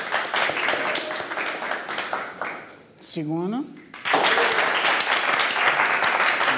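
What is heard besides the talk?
audience applause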